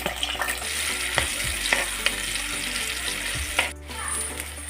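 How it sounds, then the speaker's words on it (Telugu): Chopped onions and green chillies hit hot oil and crackle in a loud, continuous sizzle. Several sharp spatters and stirring knocks break through it, and there is a brief dip near the end. "ఆయిల్ వేడెక్కింది. కట్ చేసి పెట్టుకున్న ఉల్లిపాయలు పచ్చిమిరపకాయలు,"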